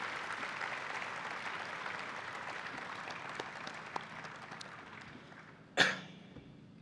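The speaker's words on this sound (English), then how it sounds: "let's all take a second to give a round of applause to both classes" Faint, diffuse clapping from a crowd at an awards banquet fades out gradually, followed by a single sharp cough near the end.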